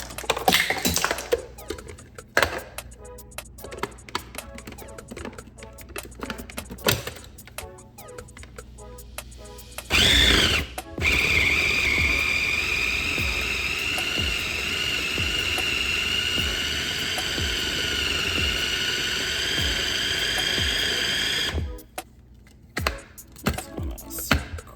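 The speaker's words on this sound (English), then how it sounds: "We just want to mix this till this is smooth." Pecan praline cheesecake batter being mixed, with clicking and tapping handling sounds first, then about eleven seconds of a steady, loud electric mixer whir that stops abruptly, followed by a few light clatters.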